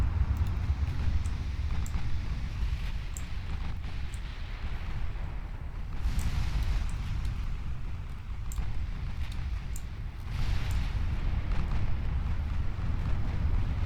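Naval shell hits landing on a warship in the Ultimate Admiral Dreadnoughts naval combat game, a rumbling series of muffled distant impacts over a steady low sea-and-wind roar, with swells of booming around the middle and later.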